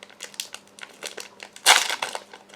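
A Pokémon booster pack's foil wrapper crinkling and crackling in close-up as it is handled and torn open, ending in a louder burst of rustling.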